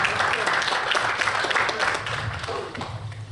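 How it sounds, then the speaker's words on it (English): An audience applauds the president of the Indo-Caribbean Federation at an honoring event, dense clapping for a few seconds that gradually fades. "Please give him a big round of applause."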